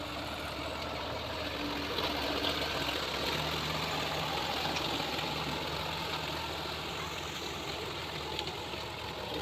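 A Sonalika tractor with a rotavator churns mud in a wet paddy field during rain, its engine droning steadily with a faint knocking rumble, close and unbroken throughout.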